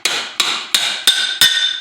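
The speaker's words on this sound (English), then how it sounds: "little tap of a hammer, come right off" Five sharp hammer taps on the bolts of Harley-Davidson engine rocker boxes, evenly spaced and ringing with a bright metallic tone, loud and close with no talking.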